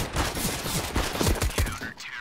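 Rapid USP pistol shots in a Counter-Strike esports match, a string of sharp cracking reports in quick succession over busy game noise, loud and close.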